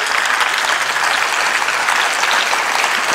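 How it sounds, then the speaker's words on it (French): A hall audience applauds throughout at the opening of a European summer-day event, a dense, loud, steady wash of many clapping hands with no talking. "on fasse un tonnerre d'applaudissements"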